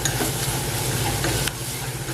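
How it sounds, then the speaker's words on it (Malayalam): Grated coconut frying in a generous amount of oil for Kannur-style koottu curry gives a steady, close sizzle with stirring scrapes throughout, slightly quieter after a brief spoon knock near the end. "നന്നായി ബ്രൗൺ കളർ ആകുന്നവരെ നമുക്കിതൊന്ന് വറുത്തെടുക്കാം"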